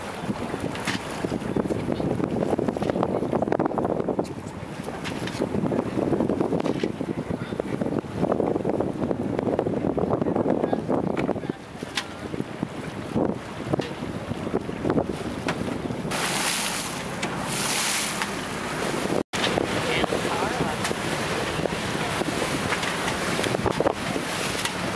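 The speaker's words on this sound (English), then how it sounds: "Race day is cool and windy." Steady wind roars across the microphone with rushing water and hull noise aboard a sailboat on a cool, windy race day, a continuous loud blustery wash throughout.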